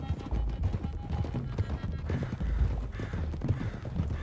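Horse hooves clip-clop steadily in the video game Red Dead Redemption 2 as horses gallop. The hoofbeats are close and fairly loud, with a brief whinny-like sound and creaking tack mixed in.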